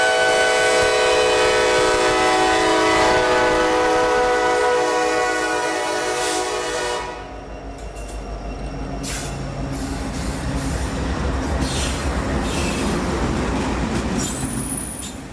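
Norfolk Southern freight train 64Q passing a grade crossing at Birdville in Jacksonville, a loud sustained horn blast fading after several seconds into the rumble, clatter and squealing of rolling freight cars passing close by.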